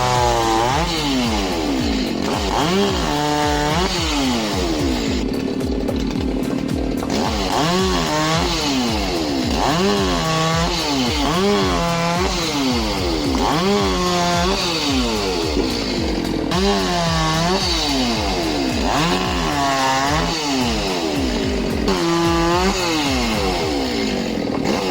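A large chainsaw with a 390 engine and an 18-inch bar cuts through wood, its loud engine steady throughout with repeated rising and falling bogs and revs as it bites into each cut.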